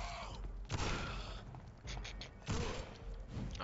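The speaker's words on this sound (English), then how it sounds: "Gunfire." Gunfire in the video game Vampyr: a few sharp muffled shots with thuds, spaced apart against a quiet, low game ambience.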